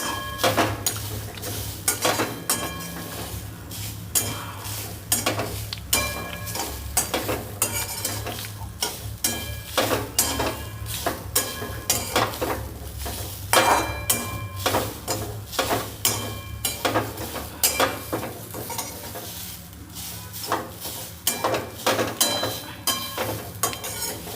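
Grated green coconut dry-roasted in a pan, a steady run of stirring and scraping strokes with faint sizzle, spoon or spatula clinking against the metal pan, close and continuous with no talk.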